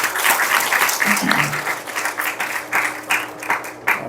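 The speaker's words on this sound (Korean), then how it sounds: "한 번 더 박수하겠습니다." A church congregation at a Sunday worship service applauds, a dense sustained wash of many hands clapping that stays fairly loud throughout, with some voices mixed underneath.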